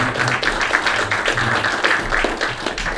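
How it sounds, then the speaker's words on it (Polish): Applause from a crowd at an outdoor political picnic, a dense, steady patter of clapping that runs through the whole short stretch at moderate loudness. "Dziękujemy, wielkie brawa."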